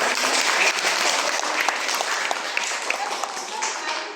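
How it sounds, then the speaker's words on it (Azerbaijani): An audience at an event at a flag museum in Sumqayit applauds in a dense, sustained burst of clapping that fades slightly toward the end. "Bir alqışlar gəlsin"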